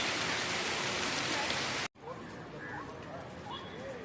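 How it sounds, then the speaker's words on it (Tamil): Steady rain falling under a tree, a dense hiss of drops that cuts out briefly midway, then continues softer with faint bird chirps over it. "மேலே உள்ள அந்த மேகங்கள் மட்டும் மழையை கொடுக்குது."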